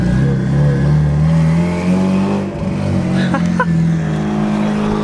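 Mitsubishi Evo with a big turbo revving up close, a loud, rough engine note rising and falling through several throttle blips, with a brief dip partway and faint chirps near the end.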